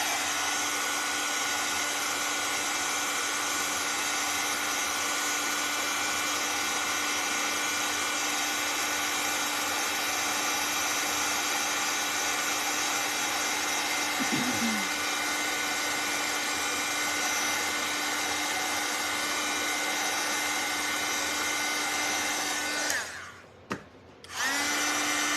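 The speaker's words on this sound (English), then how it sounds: "let me run this with the dryer real quick" A small dryer blows over a craft piece with a constant high-pitched whirring whine, then cuts off abruptly near the end.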